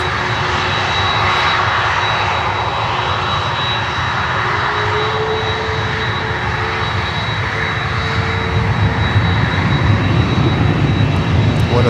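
An Avianca airliner converted from passenger to freighter taxis into a cargo bay, its engines producing a steady, loud roar with a high whine running throughout and no one speaking.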